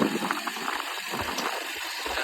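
A Hero Splendor motorcycle engine idles with a steady mechanical rattle close by, mixed with wind noise and no speech.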